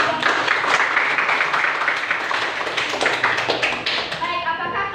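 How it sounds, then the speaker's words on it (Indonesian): A classroom group claps in applause after a group presentation, a steady patter of many hands at close range that tapers off near the end, with a voice speaking over it. "Silakan berikan aplaus."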